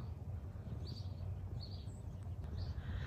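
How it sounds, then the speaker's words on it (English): Several short bird calls ring out at a distance in a snowy winter garden on a 17-degree day, scattered over a low steady outdoor rumble with no talking. "Maybe for some birds, as I sure hear them out here today"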